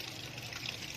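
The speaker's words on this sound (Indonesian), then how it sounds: "langkah berikutnya adalah kita akan melakukan pencucian dengan menggunakan air mengalir." Temulawak rhizomes being rinsed under running water, a steady close hiss and trickle of flowing water without a break through the short moment, no voices.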